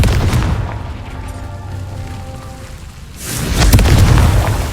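Two deep, loud blasts from the Confringo blasting curse in the Hogwarts Legacy video game, the first rumbling out slowly and the second hitting hard about three seconds later with a rolling, thunder-like tail.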